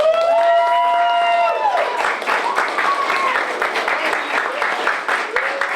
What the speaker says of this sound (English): One more round of applause for Star Chung.